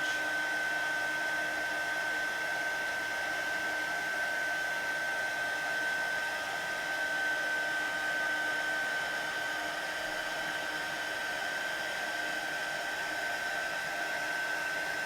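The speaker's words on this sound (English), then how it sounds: "I'm just going to use my heat gun. I'm going to hold my heat gun still." A heat gun blows steadily to melt embossing powder on a stamped sunflower image for a card, giving a loud, continuous whooshing drone with a high whine that holds level throughout, close up and without speech.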